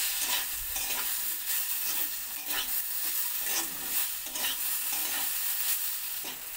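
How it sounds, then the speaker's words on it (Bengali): Diced tomato frying with potato, pointed gourd and onion in a pan, a steady loud sizzle broken by repeated scrapes and clatters of stirring throughout, with no voices. "টমেটোটাকেও ভেজে নেব।"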